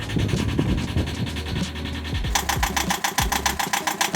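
A Yanmar 2GM20F two-cylinder diesel in a sailboat idles at low RPM, making a close, loud, rapid mechanical clatter with a steady knocking pulse and some rattling vibration from the engine mounts.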